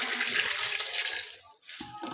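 Water is poured from a glass into a pot of chicken biryani being cooked, a continuous splashing gush that tapers off briefly near the end before a short final trickle.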